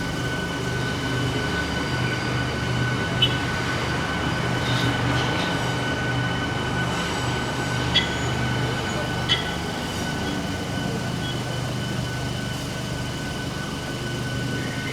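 MEMU train pulling slowly into a bay line platform, heard from inside a second-class coach as a steady rumble and rolling hum, with a few sharp metallic clanks and squeaks scattered throughout.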